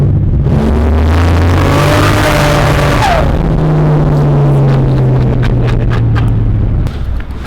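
A Holden VL Calais Turbo drag car accelerates hard, its engine roaring loud and close from inside the cabin as the pitch climbs through gears, then eases off near the end.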